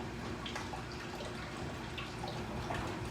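Cream ale from Tapout Brewery poured from a fridge-cold bottle into a glass, a steady gurgling trickle of liquid with soft splashing that runs continuously throughout.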